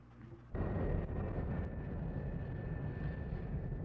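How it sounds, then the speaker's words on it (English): Blue Angels jets roar over the old Perrin Air Base, a sudden, loud, sustained rushing jet roar that bursts in after a quiet moment and holds steady to the end. "the Blue Angels roared over the old air base in formation"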